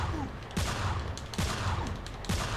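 Three heavy gunshots from the video game Manhunt 2 boom at roughly even intervals, each a sharp loud blast with a low rumbling tail, over continuous background game noise.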